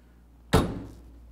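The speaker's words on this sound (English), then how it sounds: "Do you see how that door shut?" A single solid thunk of a 1949 Chevrolet 3100 pickup truck door shutting, close and firm, with a short muffled decay afterward.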